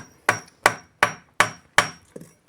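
Sharp, evenly spaced blows of an improvised iron hammer striking wood ring out five times in a steady rhythm, each close and loud with a quick decay, followed by a softer sixth knock.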